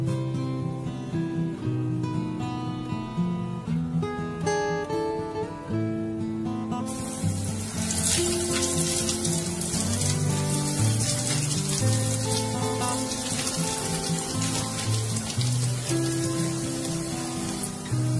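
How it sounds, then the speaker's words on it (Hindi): Snacks deep-frying in hot oil until brown for a vegetarian Iftar recipe, a steady broadband bubbling hiss that swells louder partway through and continues under soft background music. "इन्हें हमें ब्राउन होने तक फ्राई करना है।"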